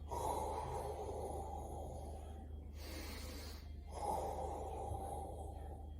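Slow, close breaths during a knee exercise, a long airy inhale-exhale cycle with a soft breathy rush rising and falling over a low steady background hum.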